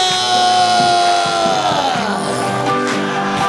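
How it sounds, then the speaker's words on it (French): A church congregation at an evangelistic service cheers and acclaims loudly, with shouts, yells and whoops rising over a sustained musical background for a few seconds. "Donne une grande acclamation à Jésus de Nazareth"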